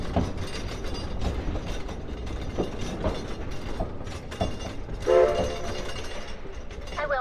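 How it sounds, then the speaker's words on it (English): A Shay steam locomotive runs near Yosemite with a continuous loud mechanical rumble and rhythmic clanking, and a brief tonal horn or whistle sounds partway through. "we're lucky to give you a little example of what our Shea locomotives were capable of"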